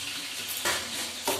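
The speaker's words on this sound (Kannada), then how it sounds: "ಇಷ್ಟು ಹಾಕ್ಸ್ಕೊತೀನಿ ಒಗ್ಗರಣೆ." Whole spices sizzle steadily in hot oil for a biryani tempering, a close, continuous crackle with two sharper stirring bursts partway through.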